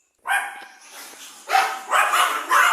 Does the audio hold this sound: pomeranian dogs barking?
yes